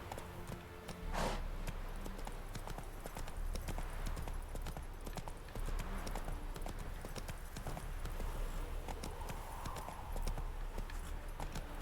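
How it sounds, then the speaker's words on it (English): Steady clip-clop of horse hooves in The Witcher 3: Wild Hunt runs throughout, a quick even rhythm at moderate loudness with a faint whinny-like tone and some background noise. "We're gonna have to turn this horse around."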